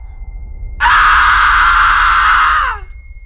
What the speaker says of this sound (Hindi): और उसी पल एक डरावनी चीख सुनाई दी